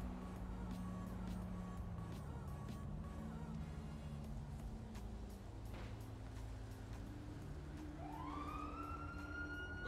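An emergency siren in the game GTA V rises near the end, a loud wailing sweep that climbs in pitch over steady low traffic rumble and engine drone, with no talk.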